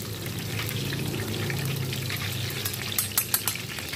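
Tofu sizzles in hot oil in a pan, a steady close crackle for Indonesian stir-fried tofu with minced beef, with a few sharper spits and pops near the end.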